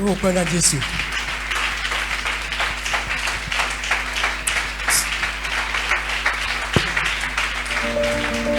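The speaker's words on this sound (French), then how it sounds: "applaudissons pour le Seigneur." A church congregation at a Sunday thanksgiving service applauds in sustained, dense clapping that runs throughout. Voices and a low steady hum sit underneath.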